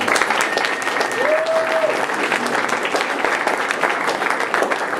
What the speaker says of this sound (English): Please give a round of applause again for Mike Conley.